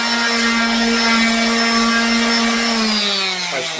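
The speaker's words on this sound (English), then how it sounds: "I'm drilling." A power drill whines at a steady high pitch, running continuously close by, then winds down slightly near the end.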